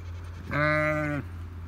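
A single close, loud, drawn-out bleat from a ewe that has just given birth to a lamb, standing out clearly over a low background hum.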